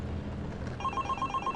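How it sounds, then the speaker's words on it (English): Telephone ringing indoors in a family home: a quiet electronic ring starts partway through as a rapid, evenly pulsed trill, faint and somewhat distant over a low background hum. "Then the phone rang"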